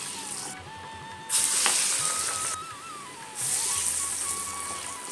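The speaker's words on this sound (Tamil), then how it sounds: "இப்போ இதை நம்ம எண்ணெய் கடாயில் போட்டு பொரிச்சு எடுத்துடலாம்." Chickpea vadai patties sizzle as they drop into hot oil in a kadai, two loud bursts of deep-frying crackle rising over a steady quieter bubbling hiss, with no talking.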